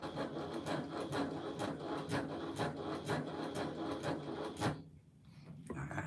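A sewing machine stitches fabric in quick, even mechanical bursts, close and fairly faint, then stops abruptly near the end before a soft resumption.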